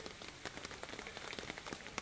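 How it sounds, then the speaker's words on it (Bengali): Heavy rain falls steadily, a dense hiss of drops with scattered sharper patters striking a surface close by, fairly faint overall and with no voices. "এটা কোন জায়গায় অনেক বৃষ্টি হচ্ছে"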